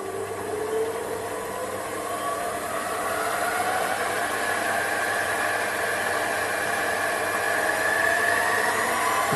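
A Sumore SP2102 7x12 mini lathe runs in low gear at low speed, giving a steady, smooth motor whine and hum with a faint rising pitch as it spins up, continuous and fairly close with no talk.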